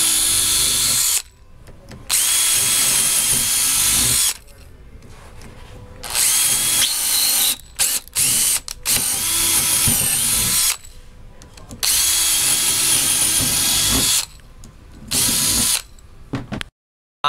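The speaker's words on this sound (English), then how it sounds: "you are going to drill the 4 small holes with an 11/64 drill bit" Power drill with an 11/64 bit whirring while drilling small holes in a Super Chexx base, in several separate bursts, each a few seconds long, with short quiet pauses between them, close and loud.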